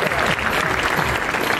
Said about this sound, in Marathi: एकदा विराजसाठी जोरदार टाळ्या वाजवा